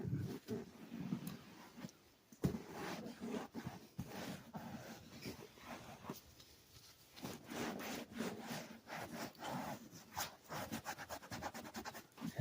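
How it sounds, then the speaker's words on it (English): A microfiber towel wipes soap off a leather car seat in quiet, repeated scrubbing strokes, close and faint, with irregular rubbing bursts. "we're then going to take a microfiber towel and just wipe off the"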